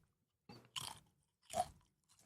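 Someone bites and chews crunchy green onion kimchi close to the mic, with two loud crunches followed by a softer one and no talk.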